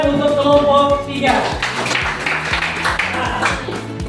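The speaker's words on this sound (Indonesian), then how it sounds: "Tepuk tangan untuk kelompok 3." Classroom group clapping for group 3 during a school coaching session, a rapid patter of many hands lasting several seconds after a brief sustained tone at the start.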